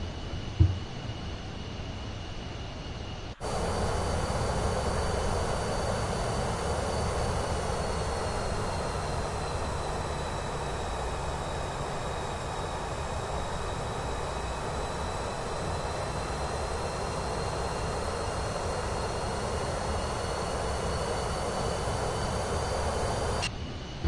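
Steady, loud airliner engine drone in Microsoft Flight Simulator 2024 on PS5 during a flight from Canberra to Sydney, starting abruptly after a brief quieter lead-in and holding an even roar with faint whining tones throughout.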